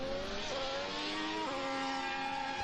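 A Ferrari Formula 1 car runs on the Fiorano test track, its engine a loud, steady high-pitched howl with rising revs and two brief gear-change dips, close and alone.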